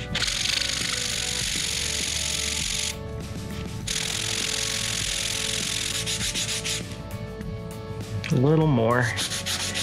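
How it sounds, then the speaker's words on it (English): Wooden pegs rubbed by hand against 150 grit sandpaper in steady, close scraping strokes with a short pause, a brief spoken remark near the end. "I'm gonna take all the pegs and sand a big flat spot on one side."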